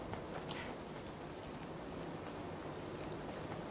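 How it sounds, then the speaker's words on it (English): Steady rain falls in Fallout 4, a continuous even hiss that holds at a constant level with no pauses and no voices. "Now it's raining."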